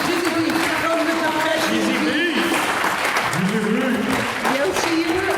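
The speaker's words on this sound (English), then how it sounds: "Give her an applause for Giselle B." Live audience applause at a fanfic theater podcast show at San Diego Comic Con, steady clapping and crowd noise filling the room with voices and cheers mixed in.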